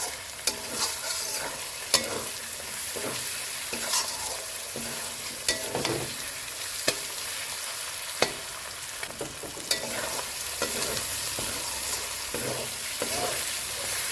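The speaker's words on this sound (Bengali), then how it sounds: "এইভাবে আমি ভালো করে নেড়ে চেড়ে নিয়েছি" Chilli chicken masala is stirred in a wok over medium-low heat, a steady sizzle of frying broken by repeated scraping clinks of the spoon against the pan, close and continuous with no voices.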